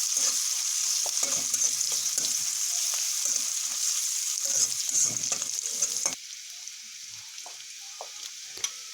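Split green chillies sizzle in hot oil in a pan while a spatula scrapes and stirs them, a steady frying hiss under irregular clinks and scrapes; no voices.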